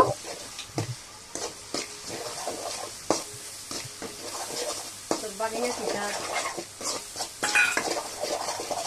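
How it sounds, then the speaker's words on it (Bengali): Spices with chilli powder and cumin powder fry in a pan as a spoon stirs them, giving a low sizzle broken by repeated clinks and scrapes against the pan. "সবকিছু দিয়ে আর একটু ভালো করে কষিয়ে নিব"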